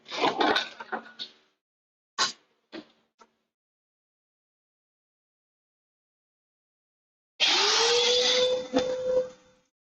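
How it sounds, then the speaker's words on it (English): A vacuum cleaner in a workshop with metal dust starts up near the end, giving a loud close whine that rises in pitch and holds. Before it, a few sharp knocks and brief scraping sounds break the quiet. "Let's vacuum this corner here."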